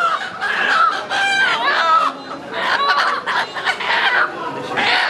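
A native deshi rooster at a busy market clucks and calls in repeated bursts up close, with voices of people talking in the background.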